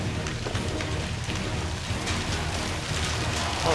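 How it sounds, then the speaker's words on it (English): Heavy storm rain pours down in a dense, steady hiss with a low rumbling undertone, loud and continuous throughout with no voices. "You can see the rain coming in."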